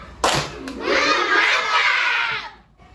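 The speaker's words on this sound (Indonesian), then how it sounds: "Kasih dulu tepuk tangan" Children in a primary school classroom clapping for a classmate, a short burst of applause with some young voices mixed in, rising quickly, holding for a couple of seconds, then stopping.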